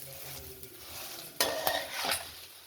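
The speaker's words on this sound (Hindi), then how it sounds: "सफ़ेद इलायचियों के बीज निकाले हुए थे, इसको नीचे ऊपर कर लेते हैं 2 मिनट के लिए।" White cardamom seeds and fennel frying in a pan while being stirred, giving a low sizzle broken by a few sharp scraping strokes near the end, close and fairly quiet.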